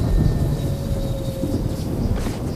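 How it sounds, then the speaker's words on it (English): Rumbling thunder from a lightning storm attack in the inFamous video game, a steady low roar with crackling rain-like texture running throughout, loud and continuous with no talk. "cast a lightning storm on it"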